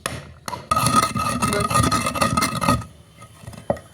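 A pestle grinds powder hard in a mortar. A burst of continuous rasping and rubbing lasts about two seconds, followed by quiet and a couple of sharp knocks.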